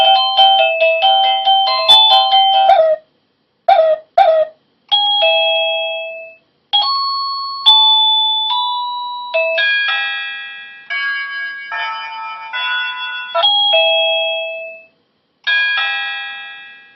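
An Anko portable wireless doorbell cycles through a series of electronic chime tunes, loud and close, with ding-dong tones and short melodies separated by brief silences, and no voices.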